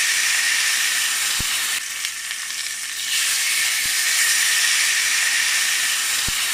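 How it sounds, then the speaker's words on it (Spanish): Red wine reducing in a frying pan over medium heat for pork cheeks, a loud, steady broadband sizzle and hiss that briefly dips, with a few faint low clicks. "Es el momento de añadir el vino tinto, que le queda espectacular a esta receta. Lo dejaremos reducir a fuego medio en la sartén."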